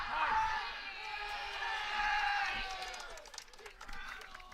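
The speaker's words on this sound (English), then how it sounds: "The crowd's getting into it now" Fans at a high school baseball playoff game, Stoneham versus Abington, give off a steady roar of cheering and whooping from the stands, fairly distant, with scattered claps and shouts and a voice talking over it.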